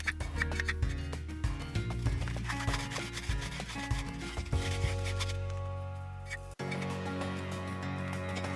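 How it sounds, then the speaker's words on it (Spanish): Emery cloth rubbed gently over a part of an electric fan that won't spin and makes noise, giving a steady close scraping and rasping that runs almost throughout with a brief break near the end. "También siempre ayuda a limpiar con tela esmeril, pero pasándolo de forma suave."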